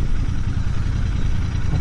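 A Royal Enfield Bear 650 scrambler-style motorcycle ridden on the road, its engine a steady, close rumble blended with wind roar that holds without a break throughout.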